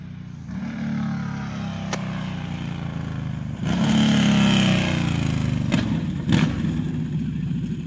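A 2012 Yamaha Stryker 1300 motorcycle with modified exhaust idles with a deep lumpy rumble, then revs up in a couple of sharp throttle blips before settling back, loud and close.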